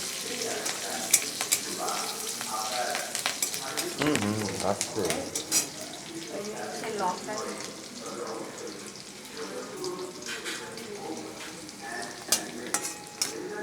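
Garlic and slit green chillies frying in a pan, a steady sizzle with scraping stirring strokes throughout, close and moderately loud, with a brief murmured voice over it.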